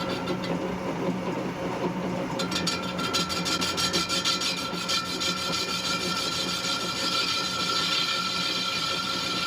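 Facing cut on a restored Champion blower pulley, a steady scraping, rasping metal-cutting sound with a rapid rhythmic chatter building after a couple of seconds, moderately quiet and continuous with no talk.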